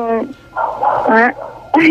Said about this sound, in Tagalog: Yung aso nyo, ang ingi ng aso nyo, ilan aso nyo?